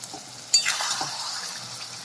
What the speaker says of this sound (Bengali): তিন চার মিনিট মতো নাড়াচাড়া করলেই গুড় কিন্তু সুন্দরভাবে গলে যাবে।